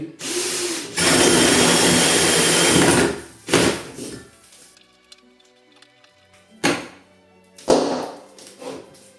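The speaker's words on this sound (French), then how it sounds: "On positionne la scie cloche." A power drill with a hole saw grinds loudly into a wall in a sustained burst, then several shorter whirring bursts follow with quiet gaps and a thunk between.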